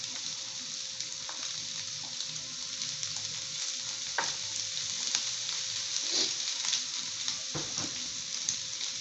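Yakisoba vegetables with green seasoning fry on a flat griddle, a steady close sizzle with occasional spatula scrapes and clicks throughout.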